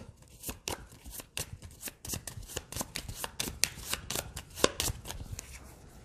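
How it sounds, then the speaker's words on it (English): Playing cards are shuffled into a deck during a Pathfinder Adventure Card Game session, a rapid series of crisp riffling snaps and taps repeating steadily for several seconds, close and alone. "2 of those are shuffled into the deck"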